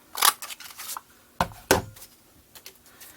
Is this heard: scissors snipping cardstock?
yes